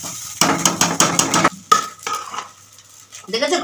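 Metal spatula scraping and stirring fried rice with ghee in a wok, rapid rhythmic scrapes and clatters loud and close, then a sharp clank and quieter scraping with a light sizzle underneath.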